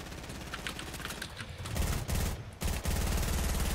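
Rapid automatic gunfire in the Fortnite video game, dense bursts of shots rattling close and loud with brief gaps between volleys, no talk.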